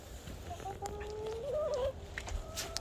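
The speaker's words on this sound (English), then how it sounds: "I'm gonna observe the chickens" A backyard hen makes soft, low clucks and a short warbling call, faint and close, over quiet outdoor ambience with a couple of small clicks.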